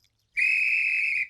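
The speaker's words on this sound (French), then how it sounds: "Donner des coups de sifflet." A single sustained, shrill police whistle blast, loud and close, held steadily for about a second before cutting off.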